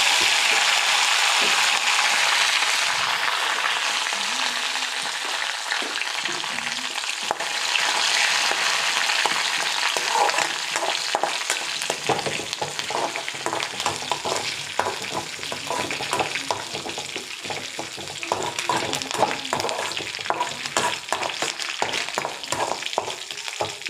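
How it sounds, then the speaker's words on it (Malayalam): Mustard seeds popping in hot oil with small shallots and curry leaves, a loud hissing sizzle at first that gives way to dense rapid crackles and pops, close up with no speech. "കടുക് പൊട്ടുമ്പോഴത്തേക്കും കുറച്ച് ചെറിയ ഉള്ളി,"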